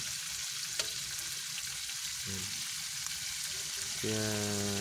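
Food fries in a pan outdoors, a continuous close sizzle and crackle of hot oil with faint tonal sounds briefly rising over it.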